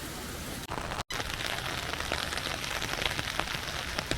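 Heavy typhoon rain pours down steadily and loudly, a dense constant hiss with scattered drops pattering on nearby surfaces, briefly cut off for an instant.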